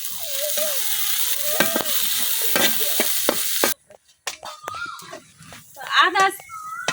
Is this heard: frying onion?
yes